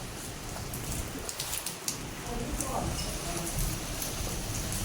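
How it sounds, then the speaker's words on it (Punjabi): Rain patters steadily on a surface, with scattered sharper drops. A faint voice is present underneath. "ਲਓ ਜੀ ਮੀਂਹ ਆ ਗਿਆ"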